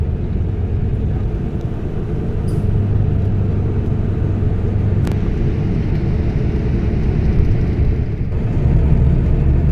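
Steady low engine rumble and road noise inside a public bus travelling through Dubai toward Deira, continuous and fairly loud throughout with no talk.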